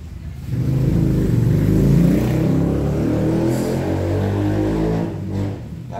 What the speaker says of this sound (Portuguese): aqui na minha cidade tem muita moto barulhenta com descarga aberta.